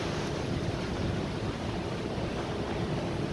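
Strong wind buffets Bournemouth pier in a west-south-westerly gale, with a steady roaring rush of air and microphone wind noise that never lets up.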